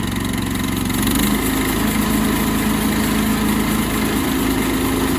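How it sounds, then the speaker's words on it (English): A saw's engine starts up and runs with a loud, steady, droning hum and a slight shift in pitch early on, then holds an even idle-like tone with no voices. "saw started moving."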